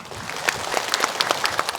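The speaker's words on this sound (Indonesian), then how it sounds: "Boleh tepuk tangan lagi" Studio audience applause on a televised Indonesian religious talk show, a short burst of scattered hand claps at moderate volume with no speech.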